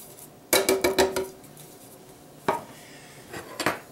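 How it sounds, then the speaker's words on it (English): Canned diced tomatoes go into a crock pot of elk chili with meat and tomato puree: a burst of quick metallic clanks and scrapes from the can against the pot, then two more isolated clatters, close and fairly loud. "Now I'm going to add my can of diced tomatoes."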